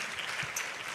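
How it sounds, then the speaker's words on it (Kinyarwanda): Applause for an apostle after his sermon at a Rwandan faith convention in Texas, a brief, fairly faint wash of crowd clapping heard from a distance, steady for about a second. "Amashyi nanone kuri Apostle for the word."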